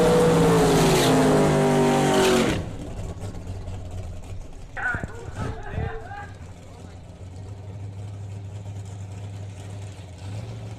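Drag racing cars at the starting line after their burnouts, a loud roaring engine blast for the first couple of seconds dropping to a lower idling rumble with brief revving, while an announcer talks over it.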